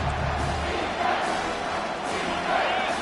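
A packed stadium crowd roars steadily in the game College Football 25 as Wisconsin hosts Notre Dame in a red zone stand, a dense, loud, continuous wash of cheering and yelling.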